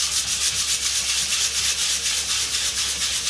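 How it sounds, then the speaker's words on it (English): Light hand sanding over a dried patch on a painted wall, giving a steady, rhythmic scratchy rubbing of close, even back-and-forth strokes with no voices. "give it a light sand"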